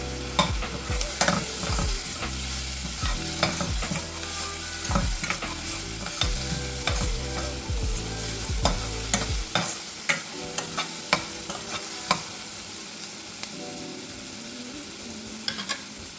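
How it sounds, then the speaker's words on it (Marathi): Garlic and green chili frying in oil in a pan for a dhaba-style lasooni palak paneer: a steady, close sizzle with repeated scraping and stirring strokes of a spatula, with no talking. "आता हे दोन्ही आपण तेलावर परतून घेऊया"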